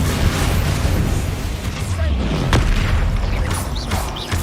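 A Bombarda blast spell from the video game Hogwarts Legacy lands as a loud, low booming explosion with a sustained rumble and scattered crackling debris, filling the whole stretch.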